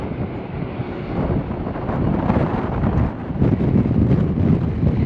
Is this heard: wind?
yes